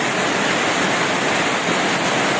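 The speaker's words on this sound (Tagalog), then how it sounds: "malakas ang ulan wala tayong magagawa kundi sumilong" Heavy rain pours down in a dense, steady roar with no breaks, loud and close, outdoors on a motorcycle trip; no voices are heard.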